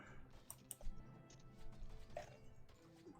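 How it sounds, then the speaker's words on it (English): Soft, faint clicks of typing on a very quiet computer keyboard, irregular light taps spread over a few seconds against a low background hum. "Sounds like you're typing on a very quiet keyboard."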